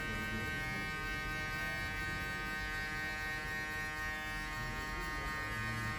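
An electric hair clipper cuts a man's hair at a barber shop, giving a steady, close, unbroken buzz with no talk.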